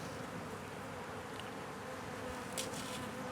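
Honey bees buzz in a dense, continuous drone inside a hive being fed dry sugar, close and steady, with no voices.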